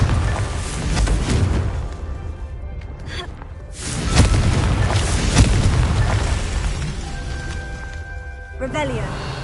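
Booming spell blasts from the Confringo fire charm in Hogwarts Legacy, several heavy explosive thuds over a dense, rumbling game soundscape with music and effects layered throughout.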